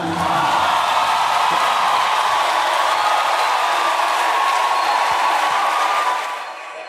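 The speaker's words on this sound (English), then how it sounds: "You may now clap." An audience applauds a church choir in Igbo cultural attire, giving a dense, steady wash of clapping that holds loud for several seconds before tapering off at the end.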